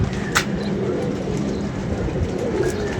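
A pigeon coos softly and steadily through a dense, low rumbling background, with no voices.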